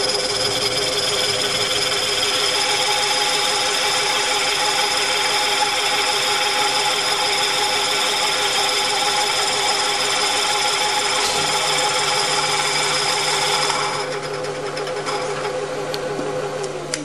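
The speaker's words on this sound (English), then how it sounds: "That's it for the drilling process." A steady, high-pitched mechanical drone of drilling into a Jensen-Healey metal manifold continues throughout, loud and close, shifting tone briefly near the end with no speech.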